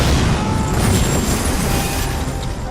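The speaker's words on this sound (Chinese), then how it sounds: "伴随着一声炮响" A cannon blast from an antique cannon inside a ship's hold under enemy tank attack, heard as a loud, sustained booming rumble with continuous heavy low-end noise and no talking.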